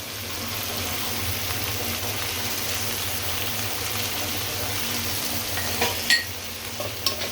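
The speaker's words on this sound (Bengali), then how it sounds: "এখন আমি চিংড়ি মাছটা দিয়ে দিব পেস্টের ভিতরে, দিয়ে আবার নেড়ে চেড়ে দেব।" Prawns stirred into a spice paste in a pan, a continuous low sizzle and scraping of a spoon, with a few sharper clinks near the end, close and with no talk.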